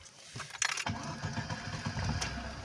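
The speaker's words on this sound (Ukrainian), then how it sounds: "Заводимо автомобіль" A VAZ 2105 car engine cranks briefly and catches, then settles into a steady close idle that runs alone to the end.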